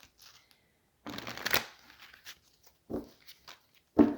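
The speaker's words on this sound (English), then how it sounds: "Let me just shuffle these through a few more times to just ensure we did shuffle them up well in between readings." Tarot or oracle cards being shuffled by hand between readings, a dense riffling burst around the middle followed by a few short, close card flicks and taps, with no talking.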